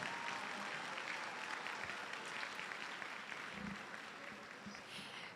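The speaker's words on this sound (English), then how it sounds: "Please give yourself a round of applause." Applause from a high school senior class audience at an academic awards ceremony, a dense, steady wash of many hands clapping throughout, fairly distant and even, tapering slightly at the end.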